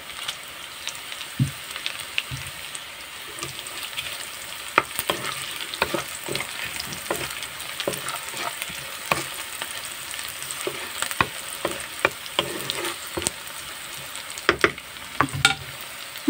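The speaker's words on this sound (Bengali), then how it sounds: "আমি পেঁয়াজ মরিচ ভেজে নিচ্ছি, দেখতেই পাচ্ছেন।" Onion and chili fry in a pan with a constant sizzle, broken by frequent sharp clicks and scrapes of a spatula stirring, close and fairly loud, with no voices.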